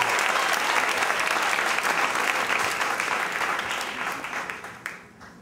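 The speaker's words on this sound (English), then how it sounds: "Keep it going for Dave Arroyo" An audience at a Moth storytelling event applauds steadily, a dense wash of clapping that holds for several seconds before tapering off.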